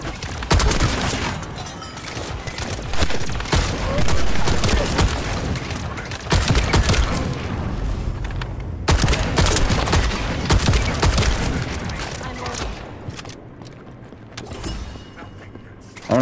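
Rifle gunfire in the sci-fi shooter The First Descendant: loud sustained bursts of rapid automatic fire with mechanical clanks and rattles between volleys, pausing briefly before trailing off near the end, with no talking.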